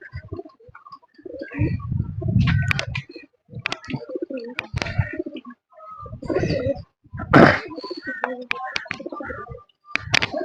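Lakka (fantail) pigeons coo in low, throaty bursts at close range, several rounds across the stretch with brief chirps and rustling between them, no talk.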